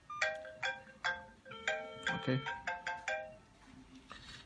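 An incoming-call ringtone sounds from a phone when the Wonlex Q50 smartwatch calls it: a repeating melodic chime of short bright tones in a quick, regular pattern, moderately loud, ending after about three and a half seconds, with a brief spoken word over it.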